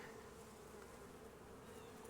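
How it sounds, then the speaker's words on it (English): Honey bees working on a hive frame give off a soft, steady buzzing hum that stays faint and continuous throughout. "These are just bees working the honey."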